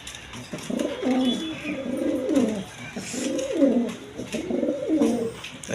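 Pigeons coo in repeated rolling phrases, several low, throaty calls in a steady rhythm, fairly close and clear over light background noise, with no one talking.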